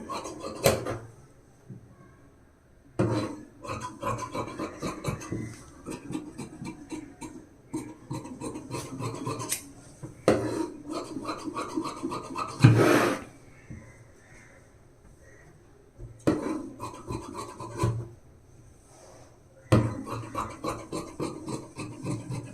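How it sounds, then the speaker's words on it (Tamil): Scissors cut blouse fabric in a series of rasping, scratchy snips arriving in separate bursts with short pauses, close and fairly quiet, with no talk. "இப்போ நம்ம இப்படி கட் பண்ணி எடுத்துடலாம்"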